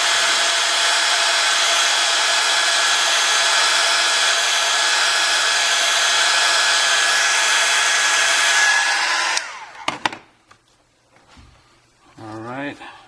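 A heat gun blows on a cracked iPad Air screen during repair, a loud, steady, close whooshing roar for about nine seconds before it cuts off, followed by brief clicks, handling noises and a voice.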